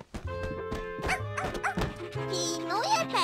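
Small cartoon dog yipping and barking in a quick run of high, bouncy barks, close and lively, ending in a rising whimpering whine.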